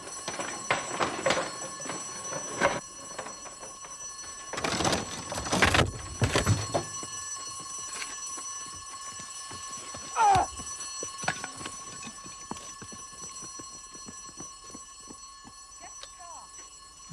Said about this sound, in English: At this point, an audible alarm went off.